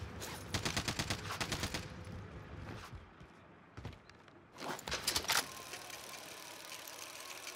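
Bursts of rapid automatic gunfire in the game Warzone, a dense volley at the start, then quieter spells broken by short sharp shot clusters, fairly loud and close with no talk.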